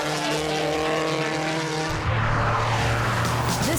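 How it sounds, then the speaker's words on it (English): A yellow Porsche 911 GT3 races up a hillclimb course, its engine roaring loud and close with a sustained harmonic drone that shifts pitch midway as it changes gear or passes, with a hint of tire noise. "This yellow Porsche 911 GT3 was one of many sports cars to make an appearance at the event, as was Tom Barrett's E39 M5."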